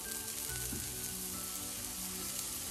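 Aubergines laid into a hot frying pan for turmeric-grilled vegetables give a steady, close, even sizzle with a constant hiss throughout and no speech.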